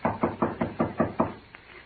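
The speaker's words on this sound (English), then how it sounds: "Shall I knock now?" Six firm, evenly spaced knocks on a wooden door, a radio drama sound effect, close and clear, followed by a fainter seventh tap, with no voices.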